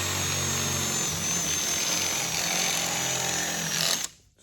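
A step drill bit bores out the center hole for a cam lock fastener on a racecar panel, giving a steady, loud grinding whine that runs unbroken for about four seconds and then cuts off.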